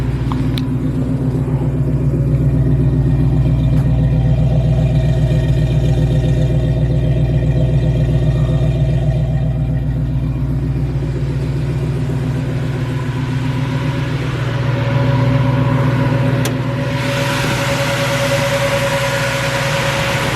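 A 1968 Ford Mustang 302 V8 longblock idles steadily nearby, a loud, even low rumble that holds throughout with a slight change in tone near the end.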